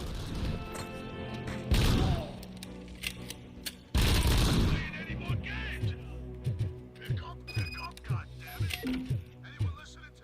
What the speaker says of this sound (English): Shoot me with a rocket launcher.